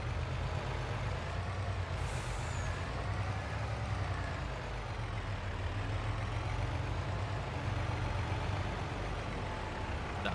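A farm truck rumbles steadily as it pulls in, a loud continuous engine drone with a short hiss of air brakes near the start, close and alone.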